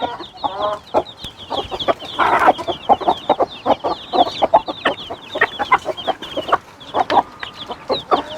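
Broody hens cluck steadily in short, overlapping calls, with occasional higher chirps, close by and busy throughout.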